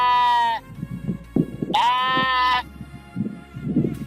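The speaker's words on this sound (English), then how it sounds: "The sound made by sheep or lamb." Sheep bleating: two long, loud wavering bleats, one at the start and one mid-clip, with quieter talk-like murmurs between them.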